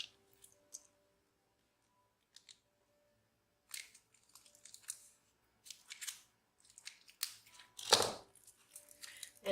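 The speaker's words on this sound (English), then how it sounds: "I'm going to cut the bag." Scissors snip through a plastic bag of clear glitter: a few scattered faint clicks early on, then bursts of crisp crinkly cutting and rustling, with one louder sharp snap near the end, close and quiet.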